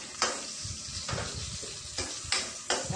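Onions with garlic frying in a pan give a loud, close, continuous sizzle, with a few sharp bursts and spatters as the onions hit the hot oil and are stirred.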